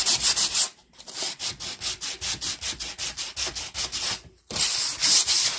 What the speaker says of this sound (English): just hit it with my little electric sander